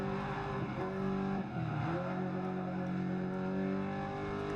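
Rally car driven hard on a stage, engine droning steadily with a brief dip and pitch sweep mid-way as it slides, sustained throughout without speech.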